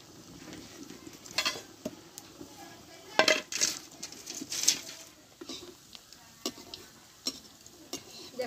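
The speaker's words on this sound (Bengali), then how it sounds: "এগুলো দুবারে ভেজে নেব," Cabbage pakoras fry in hot oil with a steady soft sizzle, broken by intermittent clinks and scrapes of a utensil stirring against the pan.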